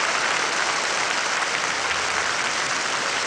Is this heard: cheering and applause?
yes